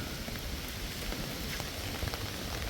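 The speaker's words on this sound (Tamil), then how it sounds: "கடும் காற்று அடித்து கொண்டிருக்குது மழையும் இடைவிடாமல் பெய்து கொண்டிருக்கின்றது" Steady, dense rain pouring down amid strong wind, a constant broadband hiss with scattered drop patters, loud and continuous with no voices.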